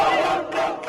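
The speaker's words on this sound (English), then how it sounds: "Outside, crowds gathered." Crowd of mourners gathered outside for a funeral procession of four Palestinian boys, a dense roar of many voices shouting and crying out together, loud and sustained throughout.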